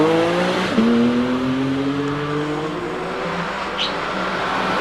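A Porsche Cayman races up the Prescott hillclimb course, its engine a loud steady drone that climbs in pitch after a brief shift, close and continuous, with no talk.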